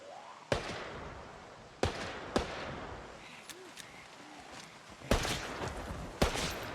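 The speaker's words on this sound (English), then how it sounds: "I think this would be a good time to test out my gun" Gunshots from a gun fired in Project Zomboid, a handful of sharp, separate cracks spaced irregularly over a few seconds, ringing out against quiet background sound.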